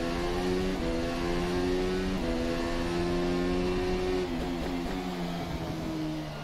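Formula car engine in the rFactor 2 racing game at the Singapore Bay circuit, a steady loud whine that climbs in pitch with brief dips between gear changes, continuous and close with no talk.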